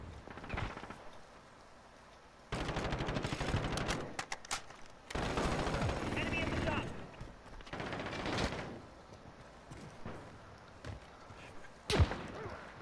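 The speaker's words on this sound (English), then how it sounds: "Friendly sentry gun online." A sentry gun fires in the Call of Duty Modern Warfare multiplayer video game, several bursts of rapid automatic fire separated by quieter gaps, with a sharp single crack near the end.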